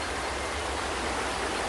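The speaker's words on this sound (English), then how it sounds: "Can I walk through the waterfall?" A waterfall rushes in the video game Sounds of Eden as a dense, even hiss of falling water, close and steady with no break.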